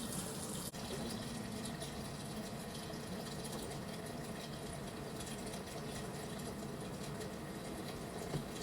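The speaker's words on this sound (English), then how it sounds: "And now we can fill it up with cold water again" Cold water runs steadily from a tap into a cooking pot while making Belarusian borscht, a constant rushing flow heard close and alone for several seconds.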